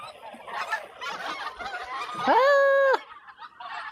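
Ducks and geese calling in a yard, soft scattered quacks and clucks followed by one loud, drawn-out goose honk near the middle, close to the microphone with no talking.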